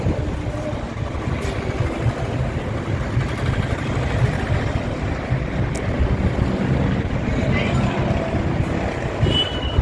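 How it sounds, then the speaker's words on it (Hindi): Strong wind on a home balcony on a sunny day roars as a steady broadband rush buffeting the microphone, loud and constant throughout, with faint background sounds. "बहुत हवा चल रही है"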